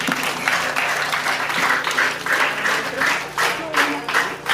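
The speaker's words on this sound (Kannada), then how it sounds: "ಜೋರಾಗಿ ಚಪ್ಪಾಳೆ ಮತ್ತೊಂದ್ಸರಿ" An audience at a Brahma Kumaris de-addiction campaign event in Chikkabyadarahalli, Mandya, applauds loudly and steadily, with the clapping rising and falling in waves.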